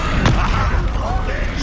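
Confringo blast from a wand in Hogwarts Legacy, a single sharp explosive burst near the start followed by a dense, rumbling battle din with crackling magical effects throughout.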